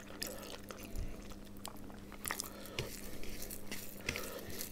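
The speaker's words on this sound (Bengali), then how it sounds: "দেখি একটু মাংস কামড় দিয়ে দেখি।" Close, soft biting and wet chewing of chicken meat in gravy, with a few small crunchy bites and faint clinks of dishes during an eating show.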